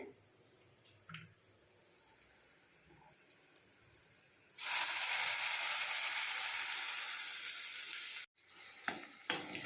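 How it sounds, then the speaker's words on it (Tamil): Ground amaranth greens paste is poured into hot tempering oil for a Tamil keerai kadaiyal; quiet kitchen noise gives way to a loud, close burst of sizzling lasting about three and a half seconds before it cuts off abruptly. "இப்போ நான் வந்து இந்த அரைச்ச விழுதை வந்து நான் தாளிசத்தில் கொட்டுறேன்"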